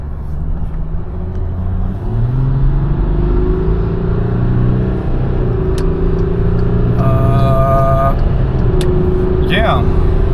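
A car cruising on the German Autobahn on a sunny day produces a steady, close road-and-engine drone with low tones that slowly rise and shift, plus a few brief higher chirps midway.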